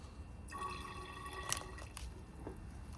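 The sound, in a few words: distilled water poured into nitric acid to dilute it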